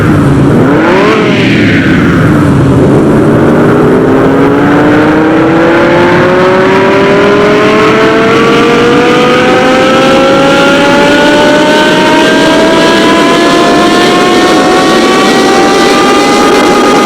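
A Lamborghini Gallardo with an ECU tune in Car Mechanic Simulator 2021 revs hard, a loud, close engine note that climbs steadily in pitch through one long pull with no speech over it.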